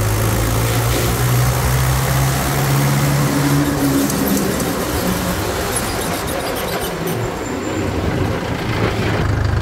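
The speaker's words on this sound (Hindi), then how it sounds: "तो अभी मैंने जो है फोर्थ गियर में डाल लिया है जी ट्रैक्टर को।" A Mahindra 575 XP Plus tractor with power steering runs in fourth gear, its engine a steady, loud, close drone with low throbbing tones that holds for the whole stretch.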